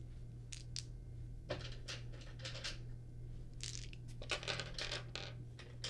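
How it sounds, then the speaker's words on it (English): A handful of dice is scooped up and rolled. Bursts of clicking and clattering come in several clusters, close and fairly quiet, with a steady low hum beneath them. "A lot of dice I'm hearing you pick up"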